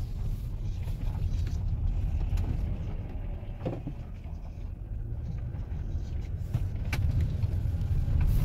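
A Toyota car with a U660E automatic transmission pulls away up a road, its engine and drivetrain giving a steady low rumble with tyre and road noise that swells slightly toward the end.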